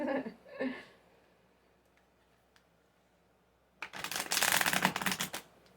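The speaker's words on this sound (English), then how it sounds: "Did you feel the air from the shuffling?" Tarot cards shuffled close by: a brief riffle at the start, quiet ticks, then a loud rapid flurry of card riffling near the end, alongside faint voices.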